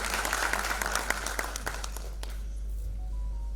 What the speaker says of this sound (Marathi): जोरदार टाळ्या होऊ जातात त्यांच्यासाठी